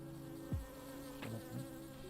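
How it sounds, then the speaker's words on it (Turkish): Faint insect buzzing passes close by in a couple of quick swoops over a steady low background hum. "Ay arı var."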